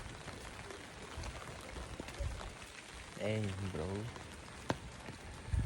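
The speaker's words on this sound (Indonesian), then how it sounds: "ini hujan gerimis sih, nggak kayak yang terlalu gede banget" Light drizzle patters softly on a village road, a faint, even hiss with a few scattered drips. Someone speaks briefly partway through.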